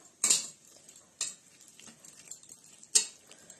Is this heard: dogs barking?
no